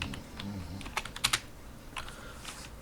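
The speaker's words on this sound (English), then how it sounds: "I'm going to type IP root" Typing a network routing command on a computer keyboard, with a few soft scattered keystrokes followed by a quick cluster of sharper, louder clacks and a couple of later taps, close and alone with no talk.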